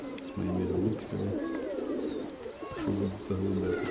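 Domestic pigeons coo in repeated low, throaty bursts close by, several rounded calls in quick rhythm with short pauses, alongside faint higher chirps in the background.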